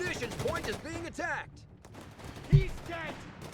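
Rifle squad gunfire in the Company of Heroes 3 strategy game, heard as a few brief distant shots and one sharp burst. An excited commentator talks over most of it.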